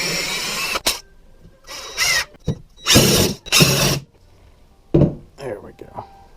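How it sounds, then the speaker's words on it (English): Power drill boring straight through 2x4 lumber while building an end table, several short whining bursts of a second or so each with pauses between, close up. "I'm just going to drill straight through and hope I get these holes straight enough"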